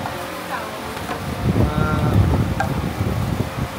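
Strong wind buffets an outdoor setting, producing steady low rumbling gusts that swell louder midway, with a voice speaking faintly underneath.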